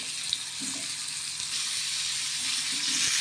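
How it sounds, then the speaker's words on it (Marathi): Pumpkin pieces sautéing in oil for a fasting-day vegetable dish, giving a steady, soft broadband sizzle that holds evenly throughout with faint low kitchen sounds underneath. "तर हे फक्त तेलामध्ये ना थोडंसं परतून घ्यायचं"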